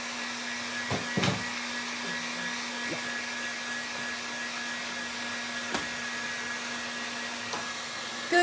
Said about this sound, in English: So I'm going to grab my heat gun.